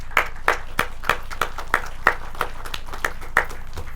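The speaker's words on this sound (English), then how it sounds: "First off, I think ISIS, Jason, let's give them another round of applause." Clapping at a Nanih Waiya Day mound ceremony in Mississippi, in a slow, even rhythm, about a dozen sharp claps spaced evenly apart, close by and fairly loud.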